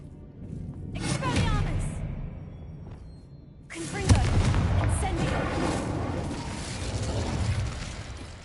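A Bombarda explosion spell in Hogwarts Legacy lands as a deep boom around the four-second mark. Rumbling game effects and whooshes surround it, with an earlier burst near the start and voices talking over parts of the clip.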